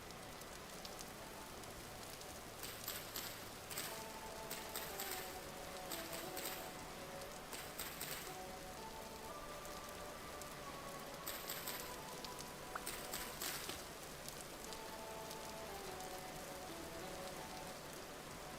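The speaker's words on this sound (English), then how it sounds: "Well, hey, it's raining." Rain falls in a soft, continuous patter inside a farming game, with faint intermittent chimes and tones from the game layered over the hiss.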